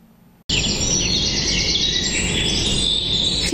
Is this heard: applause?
no